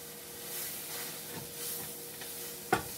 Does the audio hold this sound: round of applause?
no